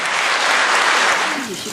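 Warm audience applause at a Sewol ferry memorial event with President Moon, a dense steady wash of clapping that fades slightly near the end.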